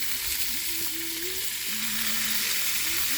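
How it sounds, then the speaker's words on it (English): Top sirloin steak frying in a frying pan, a steady loud sizzle and hiss that carries on throughout, close by with a faint low hum beneath and no voices. "that I should fry them in the frying pan."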